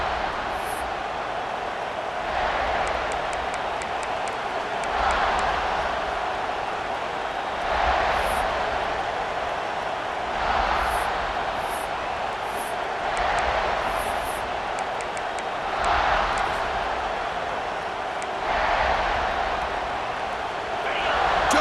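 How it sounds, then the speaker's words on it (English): Home stadium crowd in a football video game, a continuous broad roar with gentle swells every few seconds, heard at a distance with faint commentary-like voice underneath. "this home crowd is fired up and ready to make a difference today"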